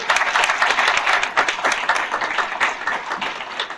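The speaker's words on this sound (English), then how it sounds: "Let's give a big round of applause to each and every one of our panelists here tonight." An audience at a candidate forum gives the panelists a dense, continuous round of applause, with many hands clapping close and loud for a few seconds and no voices over it.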